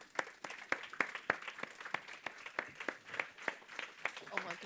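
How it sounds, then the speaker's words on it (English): Audience clapping for Fran Cutler at a live industry conference, a crowd giving a moderate, uneven round of applause with distinct individual claps rising and falling, some voices mixed in. "ladies and gentlemen, would you please give a little clap for Fran Cutler?"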